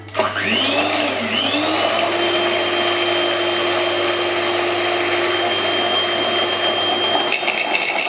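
An electric mixer beats egg whites to firm peaks for a tiramisu's mascarpone cream, a loud steady whirring motor whose pitch rises as it spins up and holds, stopping near the end.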